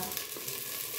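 Onions fry in a pan ahead of cooking dark lentils, producing a steady hissing sizzle, close and even, with no talking.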